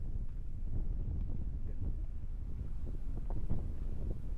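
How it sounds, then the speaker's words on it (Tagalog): Strong wind buffets the microphone on an open viewing deck overlooking the Pacific, a constant low rumbling roar with gusty surges, loud and close throughout, with no clear voices. "Super lakas ng hangin dito."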